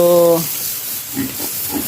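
Pet pigs being bathed give a short, loud grunting squeal at the start, then soft snorts and grunts over splashing, hissing water.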